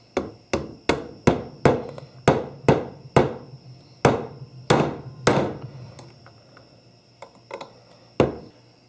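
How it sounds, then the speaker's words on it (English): A mallet drives a roll pin with a 1/8 inch punch while installing a Magpul CTR stock: about fifteen sharp metallic taps, close and ringing, in a fairly steady rhythm that slows and spaces out toward the end, with no voices. "I'm going to use my 1/8 inch punch and a mallet. I'm just going to drive that in."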